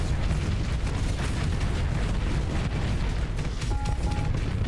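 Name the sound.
torpedo barrage explosions in video game Starsector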